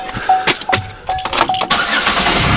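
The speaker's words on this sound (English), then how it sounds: "I'm going to start this car up" A 2007 Chevy Uplander engine cranks and starts, with loud close starter whirring in short pulses that catch and settle into a steady running roar.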